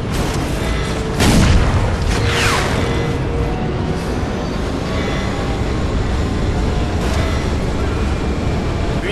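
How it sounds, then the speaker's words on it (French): A loud explosion booms in the shooter game Crysis 2, a deep blast that rolls on as rumbling debris and ambient battle noise for several seconds, with no talk over it. "Explosion, c'est magnifique."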